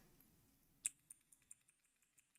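Key presses on a Gamepower Eva 7 mechanical keyboard with blue switches: one sharp click followed by about eight softer, evenly spaced clicks, close and alone in a quiet room.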